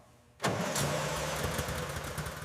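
A 1936 Bugatti Type 57 Atlantic engine catches after near silence, then settles into a loud, steady idle close by, with no talk.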